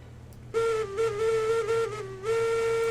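Steam locomotive whistle in the train game Railroads Online, a loud tonal blast sounded in a few stuttering pulses after a quiet start, ending in a long sustained note.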